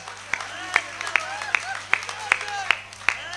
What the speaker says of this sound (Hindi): ढंग से बजाओ यार ताली वाली यार